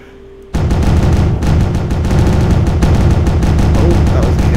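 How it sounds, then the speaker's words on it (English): Spaceship weapons fire in the space-building game StarMade during a player-versus-player battle: after a brief quiet start, a dense, loud barrage of rapid shots and booms rolls on continuously without letup. "You've been shooting me this entire time"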